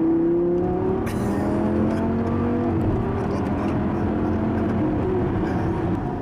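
A powerful car engine revs hard and steady for about six seconds, its drone rising and falling in pitch, loud and close with no talking over it.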